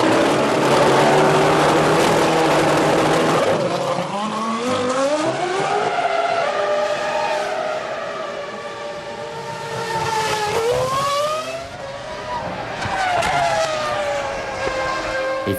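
Formula 1 cars racing at the 2005 French Grand Prix, loud engines wailing and shifting pitch as they pass close by in succession, with rising and falling tones and no speech.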